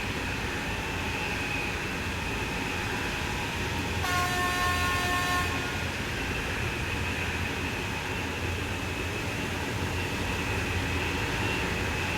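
A TGV Duplex train horn sounds for about a second and a half over a steady rumbling engine drone that runs throughout, in Train Sim World 3 on the Ashford International to St Pancras line.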